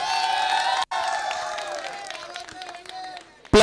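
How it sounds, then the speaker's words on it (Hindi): Crowd at a cricket premier league mega-final breaks into loud applause and cheering, a brief dropout near one second, then the clapping thins toward the end. "मैं चाहूंगा आप लोग अपने आप के लिए एक बार जोरदार तालियां बजा दो"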